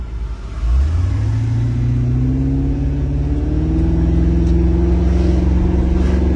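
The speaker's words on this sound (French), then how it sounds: "c'est ma berceuse cette voiture, tu vois. Là, t'entends ce doux son là" A repaired car's engine, previously fire-damaged, runs close by, revving up smoothly and then holding a steady, loud droning hum as the vehicle moves.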